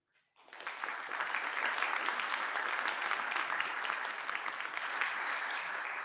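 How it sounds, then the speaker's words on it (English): Audience applause after a lightning talk at an IETF meeting, starting abruptly and holding steady as a dense, even clatter of many hands for about six seconds. "And the crowd goes wild."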